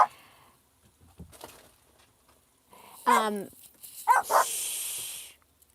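Dogs barking indoors: a few sharp barks and a whiny, yelping outburst in the second half, fairly close and loud, with a hissy noise burst near the end and some quiet rustling before.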